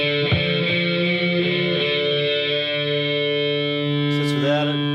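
Sustained distorted guitar chords ring out with a thick, buzzing, saturated tone and steady harmonics, loud and close, with a brief scrape near the end.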